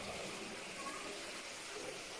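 A steady broadband rush of an underground river flowing through a cave, continuous and even, fairly faint and diffuse with no other sounds over it.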